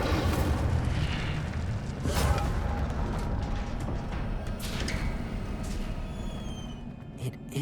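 A fire spell cast in Hogwarts Legacy during a magic battle, with a rumbling whoosh and blast over dense, continuous game noise.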